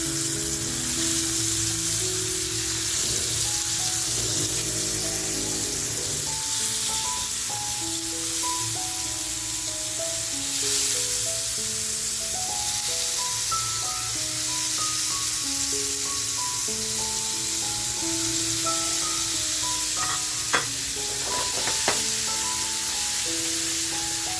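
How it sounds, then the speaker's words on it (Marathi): Marinated rawas fish, coated in turmeric, salt and masala, fries in hot oil in a pan. A steady, loud sizzle runs throughout under continuous background music. "आपल्याला जी मच्छीला मी मॅरिनेट केली म्हणजे हळद मीठ आणि मसाला लावलेली आहे ती आपल्याला छान अशी फ्राय करून घ्यायची आहे"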